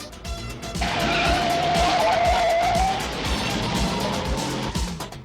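A car driven fast and skidding, with a sharp tire squeal rising over engine roar for a couple of seconds, then a continuing loud motor rush.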